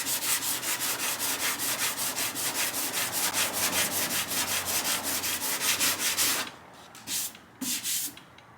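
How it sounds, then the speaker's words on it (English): Hand sanding works over a dent in car bodywork with steady, rhythmic back-and-forth strokes, close and loud, before it breaks into a few short, separate passes near the end. "Watch, I'm gonna sand it, and I want you to see how it's gonna look clear"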